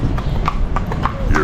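Horse hooves clip-clop in a steady, close rhythm of about six distinct strikes in quick succession at an outdoor historic village, with people talking over them.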